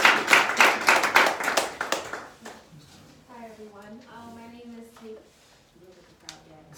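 A brief round of clapping from a small meeting audience welcoming a speaker, a couple of seconds of close hand claps that fade into a person speaking.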